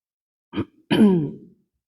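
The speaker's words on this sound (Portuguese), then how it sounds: "hoje eu tô com uma pigarra" A person clears their throat: a short rasp, then a longer, deeper guttural clearing, with silence around it.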